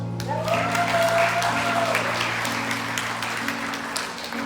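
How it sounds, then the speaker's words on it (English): Audience applause at a summit, a steady patter of clapping over a low hum, with a brief voice near the start. "we can just give them a round of applause."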